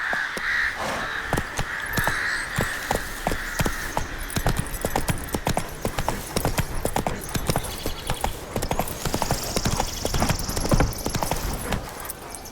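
Horse Roach's hooves clip-clop steadily in a rhythmic, close gait through a Witcher 3 game scene, with crow caws and other ambient game sounds layered over the footsteps.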